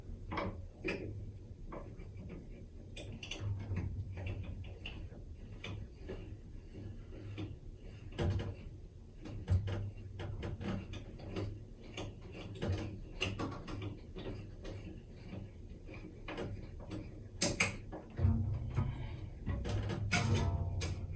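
Bass guitar tuning pegs turn in a series of small clicking, ratcheting mechanical sounds, quiet and close, with occasional louder handling knocks.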